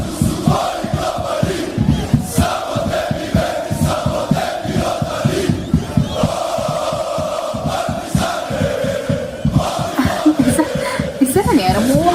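European football ultras in a stadium chant and roar continuously to cheer on their team, a dense, loud crowd with rising shouts and a swell of cheering near the end.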